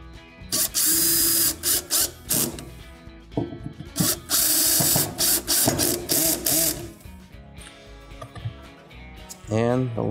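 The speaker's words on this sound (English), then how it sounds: "resecure the burner base with the two T15 screws" T15 screws are driven into a Viking cooktop burner base with a power driver, in short buzzing bursts and whirs with pauses between, close up, while a voice speaks.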